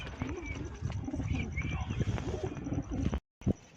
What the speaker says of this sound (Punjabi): ਇਹ 14 ਪਰੀ ਆਪਣਾ ਸ਼ਾਖਾ ਕਬੂਤਰ ਹੈ